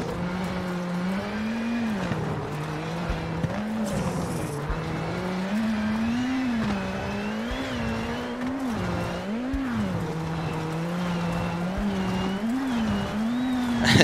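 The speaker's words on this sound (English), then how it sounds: "Now listen to that beautiful engine backfire." A rally car engine in the video game WRC 7 on a Rally Argentina stage, roaring steadily with pitch rising and falling through gear changes, plus brief crackles and tire noise, loud and continuous with no talking.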